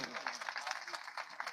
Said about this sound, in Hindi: जोरदार ताली बजाकर प्रभु को धन्यवाद